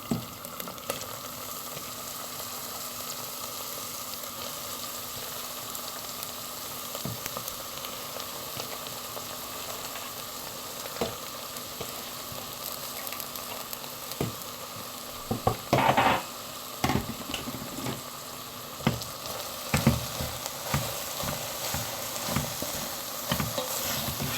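Madimak greens sauté in a pan, a steady sizzle and crackle lasting over twenty seconds, with occasional scrapes and clinks of stirring that grow busier midway.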